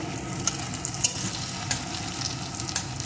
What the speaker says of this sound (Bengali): এখন এগুলোকে একটু ভেজে নেব।